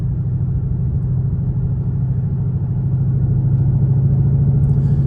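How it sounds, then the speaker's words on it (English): A Ford GT500's exhaust rumbles at a steady, deep idle close by, holding a low throb without revving and with no voices over it. "Really just a great exhaust note."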